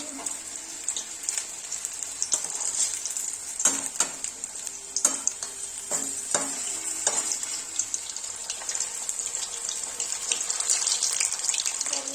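Chicken lollipops deep-frying in hot oil in a wok give off a continuous bright sizzle and bubbling, broken by a few sharp clinks of a utensil against the pan, with no talking.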